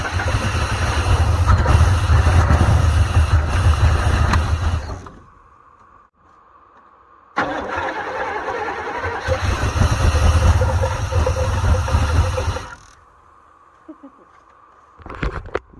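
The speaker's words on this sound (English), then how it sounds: "Throw a little gas in there and then see if it'll start." Engine of a 1990 Chevrolet C3500 truck running on a splash of gas poured in, roaring loudly for about five seconds, cutting out, then firing again for another five seconds before dying, with a brief burst at the end.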